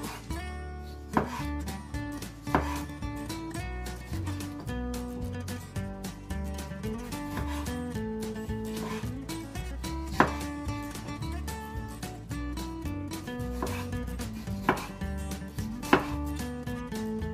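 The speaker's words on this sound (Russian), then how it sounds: "Мы ее тоже режем небольшими ломтиками, буквально по 5 мм." Tomatoes being sliced by knife into small pieces about 5 mm thick, a few sharp cutting taps scattered through the clip and largely buried beneath steady, loud background music.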